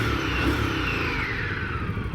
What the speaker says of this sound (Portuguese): Ei, olha para este som. Oh, olha para este escape. Uma saída para cada cilindro.